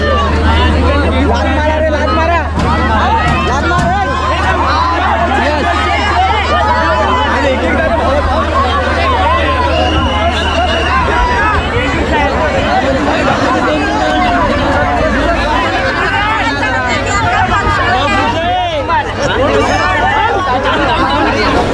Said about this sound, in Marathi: खूप गर्दी आहे मित्रांनो, आता सुद्धा दादरला साऊंड ट्रेनला खूप गर्दी